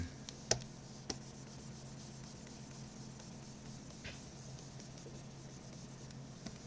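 Faint, soft scratching of an eraser rubbing out pencil on paper for a fantasy illustration, with a few light taps and clicks, quiet and close in a still room.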